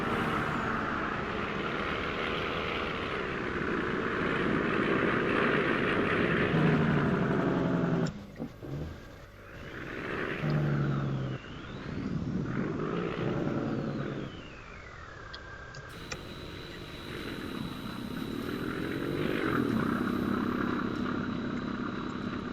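In a farming video game, a TLX9000 mod tractor works a baler with a droning engine. The drone rises and falls in pitch as the machine moves and loads, broken by brief dips and mechanical whines, with no talking.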